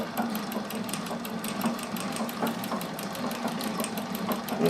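A Singer 201K sewing machine stitches steadily with a rapid, even mechanical clatter and soft whirring motor hum, continuous throughout with no talk.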